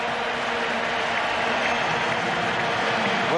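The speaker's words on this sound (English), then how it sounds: "Well-deserved acclaim, a standing ovation from this huge crowd at Kingsmead" A huge cricket crowd at Kingsmead in Durban rises for a standing ovation during a South Africa v Australia one-day international, a dense, steady roar of applause and cheering that holds at full strength throughout.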